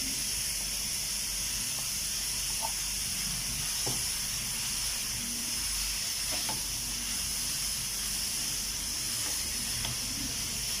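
Grated, squeezed-out potatoes cook in a pan for restaurant-style hash browns, giving a constant soft hiss and sizzle with a few faint scrapes and clicks, no voices.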